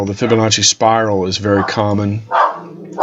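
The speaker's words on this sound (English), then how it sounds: "sorry about the dog and what she's barking about" A pet dog barks in short bursts near the end of a stretch of someone talking. The barks sit under and between his speech, fairly close by.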